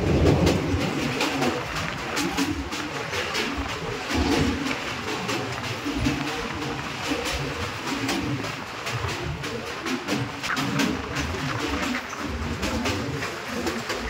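A passenger train rumbles steadily across the Barak river bridge in Assam, heard from on board as a continuous rattle with rhythmic wheel clatter and no talk.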